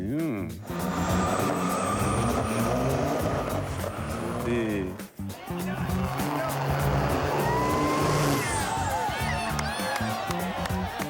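A Ford Mustang races at an amateur event, its engine roaring loud and continuous with a brief dip partway, alongside crowd noise and cheering; people talk in the background.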